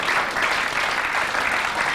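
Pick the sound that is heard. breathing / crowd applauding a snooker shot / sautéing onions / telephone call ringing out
crowd applauding a snooker shot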